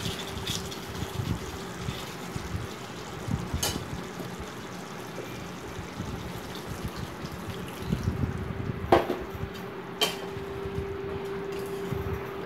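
Water pours into a pot of chicken curry, a steady liquid stream and splash with a faint ringing tone, lasting most of the span with a couple of sharp clinks near the end.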